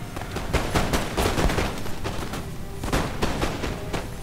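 Dense, crackling musket volleys from French Chasseurs in a Napoleon: Total War online battle against Spain, with overlapping shots rolling on continuously at close range, loud and with no talk.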